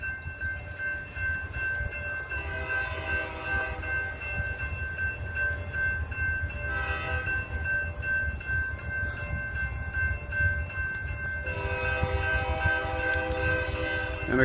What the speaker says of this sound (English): All right, we have a train coming here.